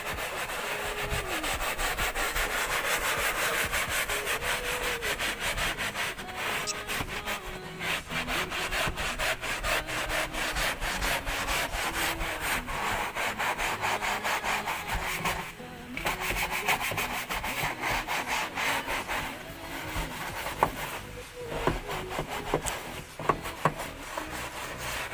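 A brush scrubs the interior of a Honda i10 during a dry cleaning, giving a steady, close, continuous scratchy rubbing with quick back-and-forth strokes that carry on without talk.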